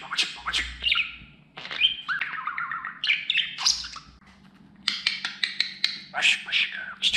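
Pet budgerigar chirping, whistling and squawking close by in a steady run of bright, rapid calls with short pauses.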